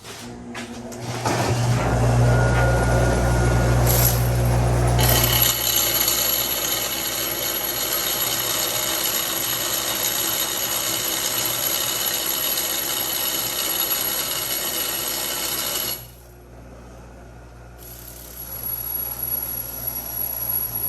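A power tool grinds a shallow socket for a VW 2.0T timing chain job, starting with a loud burst, then a long steady high whine before cutting off briefly and resuming.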